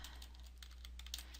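Quiet, rapid keystrokes on a computer keyboard come in a steady run of light clicks, typed while entering a SQL query, alone over a low electrical hum.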